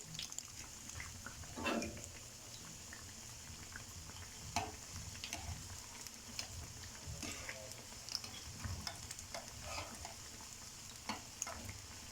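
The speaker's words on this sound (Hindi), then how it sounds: "सिंगल पीस आप उठाएं और उसको डिप करें मसाले में और फ्राई कर लें" Bread pakora made with soji batter frying in hot oil, a faint, steady sizzle and bubbling with occasional soft stirring clinks, heard alone without talk.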